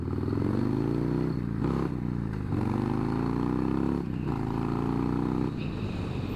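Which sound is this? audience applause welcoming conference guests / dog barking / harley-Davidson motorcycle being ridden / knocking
harley-Davidson motorcycle being ridden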